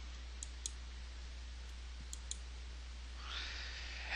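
A few soft, sharp computer mouse clicks spaced apart over faint steady hum, ending with a brief hiss.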